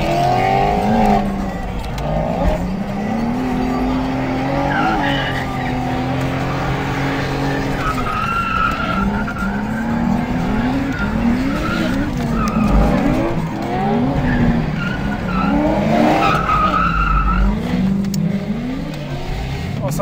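BMW E30 Touring with a 2.8 straight-six drifting, its engine revving hard while the tyres squeal and skid continuously, with voices talking inside the cabin throughout.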